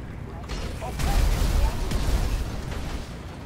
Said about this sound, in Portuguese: Deixa eu fazer então algumas explosões.